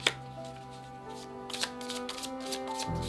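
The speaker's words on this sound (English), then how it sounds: "she would shuffle and she would always do this" Crisp riffling of a tarot deck being shuffled close by, a few quick bursts of flicking and tapping with quiet background hum.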